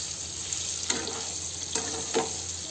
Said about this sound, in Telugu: ఇప్పుడు పన్నీర్ యాడ్ చేసుకున్నామండి. దీంట్లో లైట్ గోల్డ్ కలర్ వచ్చేదాకా ఫ్రై చేసుకుందామండి.